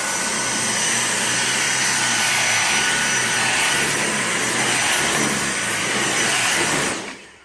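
A Dyson V6 Motorhead cordless vacuum runs continuously at close range, sucking up dirt with a loud, steady high whine and broad airy roar, then cuts off abruptly at the end; nobody speaks.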